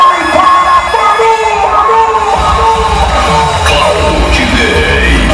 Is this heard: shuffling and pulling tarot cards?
no